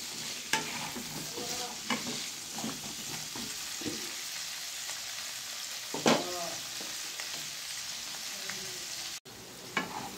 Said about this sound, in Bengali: এটাকে দিয়ে নেড়ে চেড়ে ভেজে নিতে হবে, একটু লাল লাল করে ভেজে নিতে হবে